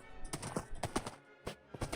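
Horse hooves clip-clopping at a walking pace in a video game set on an open savannah, a series of distinct, fairly quiet clops in an uneven rhythm.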